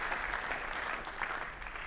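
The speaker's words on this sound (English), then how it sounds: "They're actually clapping" An office crowd in the TV show The Office claps steadily during a speech, a soft, distant, continuous patter of many hands at low level with no talk over it.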